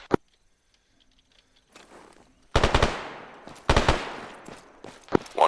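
Machine gun bursts during squad training in a video game, a faint lone crack first, then two loud rapid bursts with trailing echoes, and a final sharp shot.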